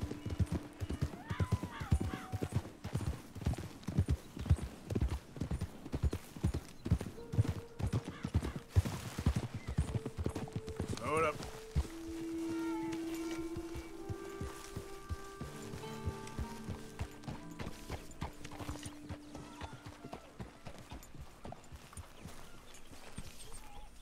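Rhythmic clip-clop of horse hooves trotting at a steady pace in Red Dead Redemption 2, fairly close, easing off midway as background music plays.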